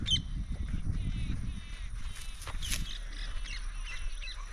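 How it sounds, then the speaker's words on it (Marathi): Harsh, squawking parrot calls come in short bursts over a rumbling outdoor background, moderately close. "सगळी कडकडाने पोपटच बसले ते बघा"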